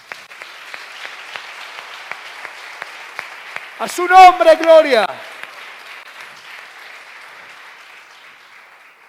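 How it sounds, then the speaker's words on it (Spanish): Congregation applauding in a church service: steady crowd clapping throughout, briefly overlapped by a loud, close voice crying out mid-clip before the clapping continues and fades. "Denle un aplauso al Señor."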